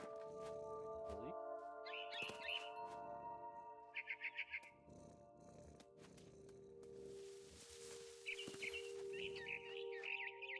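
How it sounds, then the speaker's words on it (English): Bird chirps from the video game What Remains of Edith Finch, short bright bursts repeating in clusters over a quiet ambient bed, with game sound effects and a voice speaking in between. "I tried to be quiet, but the bird was really scared."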